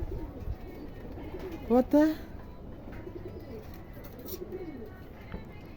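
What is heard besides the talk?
pigeons cooing on a rooftop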